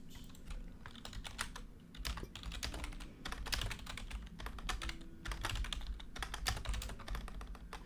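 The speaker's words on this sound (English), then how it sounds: "I'm having a hard time typing" Rapid, irregular clicking of keys on a computer keyboard, close and steady with brief pauses, continuing throughout without any talk.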